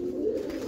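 Birmingham roller pigeons in a loft coo with a steady low murmuring hum, close and continuous through the short moment with no talk.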